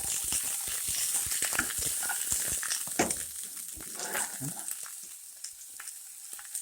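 Broccoli sautés in olive oil, crackling and hissing as it is stirred, with dense clattering scrapes of the spoon early on that thin out to a quieter sizzle.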